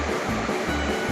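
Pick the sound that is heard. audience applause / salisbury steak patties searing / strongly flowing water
strongly flowing water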